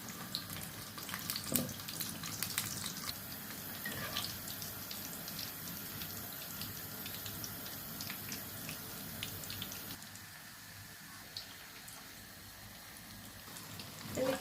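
A boiled egg frying in a pan of oil, a steady hiss and crackle running throughout at an even level, dipping slightly toward the end.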